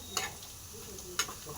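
Homemade onion fritters (piyaji) fry in hot oil with a soft, steady sizzle, broken by two sharp clicks of a utensil against the pan.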